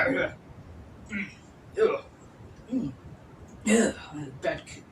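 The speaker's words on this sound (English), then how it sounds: "Bad cough." A few short, rough coughs come in spaced bursts, close by and moderately loud, with quiet gaps between them.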